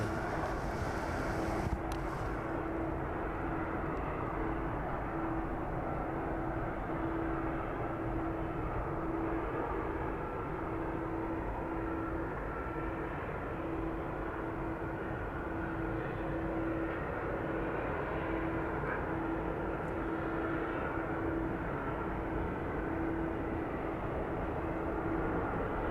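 Airliner departing East Midlands Airport in the evening, a steady distant jet engine roar with a constant hum, heard alone without talk as the plane rolls and climbs away.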